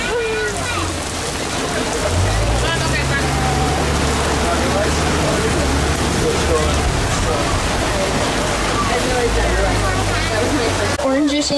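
Heavy rain falls steadily during an open-vehicle safari ride past animal enclosures, a dense hiss of water over the low rumble of the moving truck, with people talking throughout.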